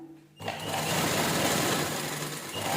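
A sewing machine stitching a blouse panel for a princess-cut blouse starts after a short quiet moment, then runs in a fast, steady, close mechanical whir to the end.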